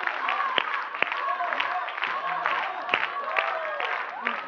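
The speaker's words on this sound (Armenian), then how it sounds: "Բորան ծափարում ենք Լոլային եւ Հովոյին" Audience applause at a dance show gala concert, sustained clapping from a seated crowd with a few cheers, heard indoors at moderate volume with voices mixed in.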